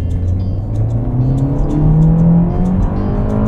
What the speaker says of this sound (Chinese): 直接到6000转啊，那个发动机的声音轰就起来了，还是挺刺激的。